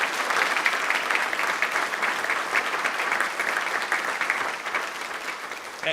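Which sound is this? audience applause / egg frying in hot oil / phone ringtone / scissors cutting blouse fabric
audience applause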